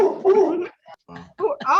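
Dog named Raisin barking indoors at someone coming through the door, a few short yips and barks mixed with people talking on a meeting call.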